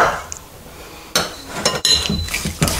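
Praline paste, 90 grams, is stirred into giant cookie dough in a bowl, with a series of close clinks and scrapes of the utensil against the bowl after a quiet start.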